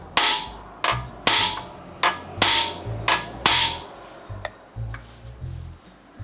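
A hammer strikes a stripped Phillips screw head, landing about a dozen sharp metallic whacks at an uneven pace, close and loud, with the later blows lighter and quicker.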